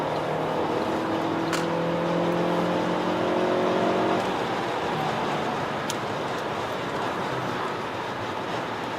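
Heard from inside, a Quadrifoglio Verde car accelerates with a loud, steady engine and road roar whose pitch climbs for several seconds before settling into a constant drone.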